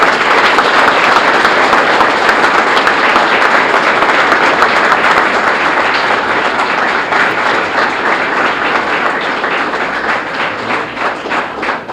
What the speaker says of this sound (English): So let's give Amy a loud round of applause